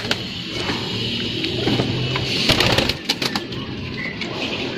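Pigeons of the telo breed cooing in courtship as a male drives a female, low repeated coos close by with some rustling and sharp clicks, no talking.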